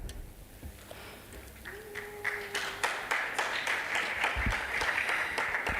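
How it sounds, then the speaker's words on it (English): Audience at an innovation week and industry summit breaks into applause, the clapping starting thin and swelling into a steady, dense patter of many hands that carries on to the end. "Let's give a nice clap."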